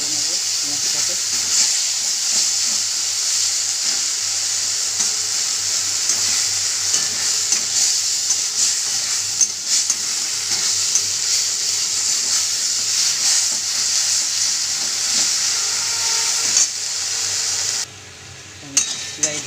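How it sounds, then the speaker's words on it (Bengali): Onions fry in a pan with tomato, green chilli, garlic and ginger for a Bengali fish curry, a continuous bright sizzling hiss with light stirring scrapes throughout and a brief dip near the end. "ভেজে নেবো পেঁয়াজটাকে।"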